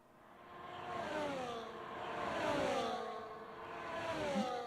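Formula 1 race car engines from the F1 2024 video game, Bahrain testing, whine and rise in pitch as cars circle the track, swelling and fading in repeated waves of steady engine drone with no voices.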